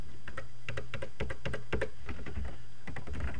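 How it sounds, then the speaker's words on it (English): Keys clatter on a computer keyboard in short bursts of quick taps with small pauses between them, close and fairly soft, with no voices. "I'll come back and I'll type in project number 1"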